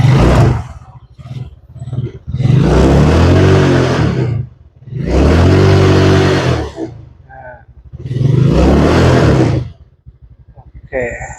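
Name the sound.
Yamaha Mio Smile scooter engine revving with racing CDI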